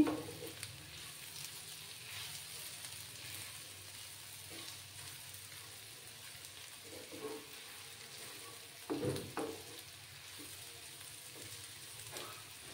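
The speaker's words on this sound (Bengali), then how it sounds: "আর একটু নাড়াচাড়া করে নিচ্ছি আমি" Dry shrimp frying in a pan, with a low, steady sizzle and occasional soft scrapes from stirring, one brief louder stir toward the end.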